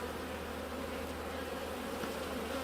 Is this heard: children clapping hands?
no